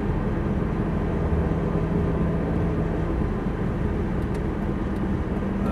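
A Lamborghini Gallardo accelerating under throttle, heard as a steady, dense engine drone and road rumble from inside the car, fairly loud and unbroken, with no talk.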